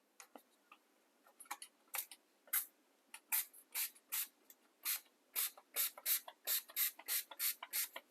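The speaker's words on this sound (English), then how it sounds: "We're going to spray the NuVibrants all around the sink" NuVibrants coating sprayed onto a sink, a series of sharp, short spray bursts that start sparse and quiet and grow into a fast, loud, regular rhythm close to the nozzle.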